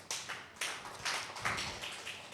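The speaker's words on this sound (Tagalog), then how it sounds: "Pwede po ba tayong pumalakpak?" A church congregation claps together during a worship service. The clapping comes in loud, rhythmic bursts of many hands, steady and fairly close throughout.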